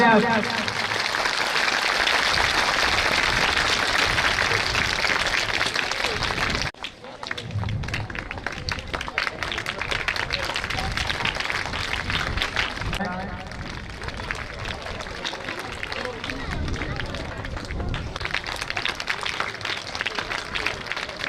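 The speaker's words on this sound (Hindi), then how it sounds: "जोरदार तालियां।" An audience claps at a school's annual function and donor honoring ceremony, a dense burst of applause first, then a sparser, uneven patter of hands after a sudden drop, with voices mixed in.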